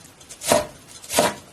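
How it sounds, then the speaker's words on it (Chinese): A knife chopping fennel on a cutting board in a rural kitchen, two soft, distinct thuds about two-thirds of a second apart, close by with no talking. "茴香控水后给它切碎"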